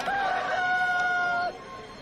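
A rooster crows once in a single sustained, loud, close cock-a-doodle-doo lasting about a second and a half, then falls away to quiet background.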